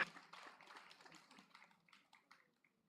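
Audience applause at a university congregation ceremony, a burst of clapping from a crowd that starts fairly strong and thins out, fading to a few scattered claps over about three seconds.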